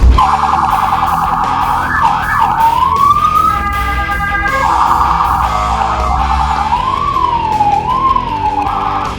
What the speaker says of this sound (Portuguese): Agora escuta essa sirene.